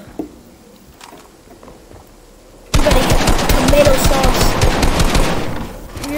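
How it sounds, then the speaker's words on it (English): Rapid automatic gunfire in the video game Fortnite breaks out suddenly after a quiet stretch, then continues as loud, dense, continuous bursts to the end, with faint voice sounds under the opening. "Y'all stop shooting. Stop going crazy!"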